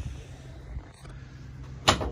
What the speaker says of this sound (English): Opening up the rear doors.